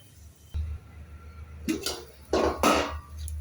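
A metal lid settles onto a pot of cooking basmati rice, giving a few close clattering clinks of metal on metal over a low kitchen hum.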